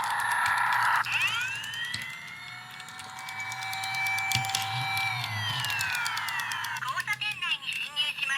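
A Tomica 4D toy ambulance model plays its electronic siren, with loud rising and falling wails sweeping up and down for several seconds, followed by faster warbling tones, while someone talks over it.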